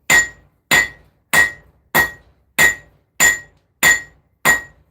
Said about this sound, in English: use the cross peen of the hammer to forge out the blade as wide as possible